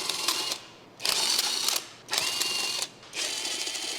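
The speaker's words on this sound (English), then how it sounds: "Use a 19mm deep socket with an electric impact wrench to remove the hub bolts." An electric impact wrench with a 19mm deep socket removes the front hub bolts on a Ford Escape, rattling out four loud, close hammering bursts separated by short pauses.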